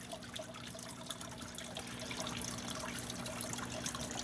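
Water trickles gently in a tannin-stained waterfall aquarium tank, a soft continuous splashing and dribbling heard close up with no voices.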